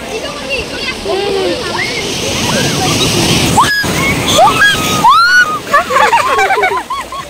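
Water splashing and sloshing as children play in it outdoors, with irregular splashes throughout and several voices chattering and calling over the top.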